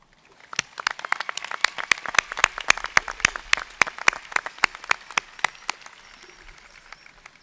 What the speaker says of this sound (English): all of our graduates deserve, from all of us, a great round of applause